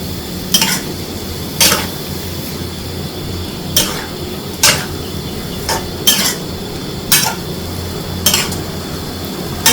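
Pork stir-fried with red curry paste, long beans, oyster sauce and light soy sauce in a pan, with a steady sizzle beneath about ten sharp, regular scrapes of a spatula against the metal, close and fairly loud, with no talking.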